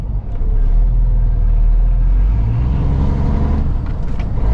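A truck engine rumbles loud and close from inside the cab, a deep steady drone that swells and eases slightly as the driver shifts gears.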